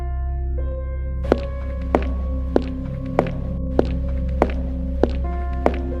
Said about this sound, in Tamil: அவள் காலில் மாட்டியிருந்த ஈல்ஸின் சத்தம் அவளுக்கே பயத்தை ஏற்படுத்தியது